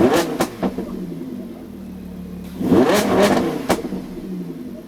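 Lamborghini Huracan with a non-stock aftermarket exhaust line at a car meet, revving in two loud bursts with a sharp metallic crackle and rasp, idling between blips, close by.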